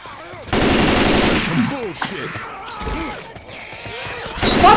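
Rapid automatic gunfire in Left 4 Dead 2 rattles in bursts while players shoot at zombies, loud and close, with other game noise and voices mixed in.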